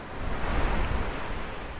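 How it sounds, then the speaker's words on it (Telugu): Sea waves washing up onto a sandy beach, a steady broad roar of surf with light wind noise, continuous and fairly close, with no voices. "చాలా హాయిగా ఉంది ఆ అలలు మీరు కాళ్ళు పాదాలు తాకుతుంటే"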